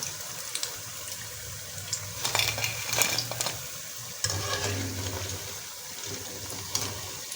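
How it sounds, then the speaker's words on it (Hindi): Mini samosas fry in hot oil with a steady close sizzle, broken by a few louder bursts of bubbling and stirring clatter. "मिनी समोसा फ्राई हो गए"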